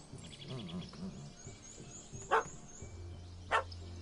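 A puppy barks in a few scattered, fairly close yaps, with two sharper bursts near the end over a low rumbling background.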